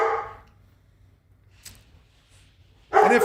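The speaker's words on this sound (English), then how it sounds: "you're going to hear some dogs barking in the background" A dog barks, with one bark near the start and a louder, close bark or yelp at the end, the dogs heard indoors at feeding time over a low steady hum with quiet gaps between.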